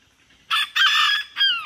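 A pampered house rooster crows outdoors on a wet, muddy farm. It gives a short opening note, then a long, loud, close crow, and a final falling call, with no talk.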